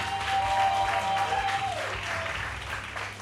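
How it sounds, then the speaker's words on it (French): Studio audience at a French television variety show breaks into loud, sustained applause, dense clapping filling the whole stretch, with a brief tonal whistle-like note riding over it early on. "On l'applaudit bien fort"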